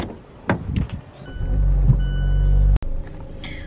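Car interior with a low, steady engine rumble building and holding, a few soft knocks and handling thumps early, then a sharp click or door thud near the end before the hum resumes.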